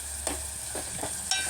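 Mutton curry fries in a pan, a soft continuous sizzle with a few brief stirring scrapes and spits over about a second and a half, no talk.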